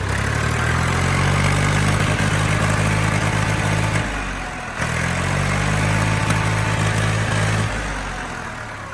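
A Sonalika 750 tractor's diesel engine idles close by with a steady low throbbing hum, dipping briefly as if throttled down before settling back to the same even idle; no one speaks.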